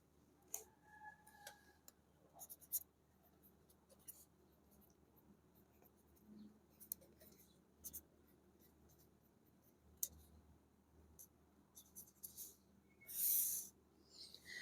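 Pen scratching across a notebook page during a Class 11 physics lesson, quiet intermittent strokes and short scribbles in near silence, with one louder rustle near the end.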